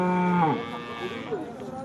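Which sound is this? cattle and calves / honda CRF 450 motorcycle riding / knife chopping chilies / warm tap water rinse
cattle and calves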